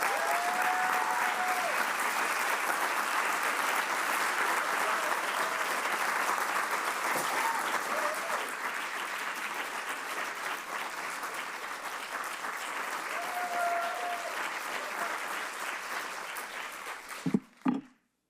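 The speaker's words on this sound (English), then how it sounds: "Please give a warm applause" Warm applause from the audience at an ISPA awards presentation as an International Citation of Merit is given, sustained clapping for well over fifteen seconds, tapering before a few closing thumps.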